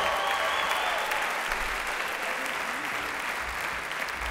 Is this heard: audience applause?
yes